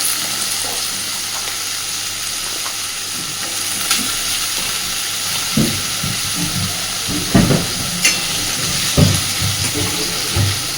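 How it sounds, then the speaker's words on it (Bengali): Small diced potatoes fry in a pan as the first step of a lote fish jhuri. A steady broadband sizzle and hiss carries throughout, with a few louder knocks and scrapes from stirring toward the end. "আলুটাকে আগে একটু সুন্দর করে ভেজে নেব।"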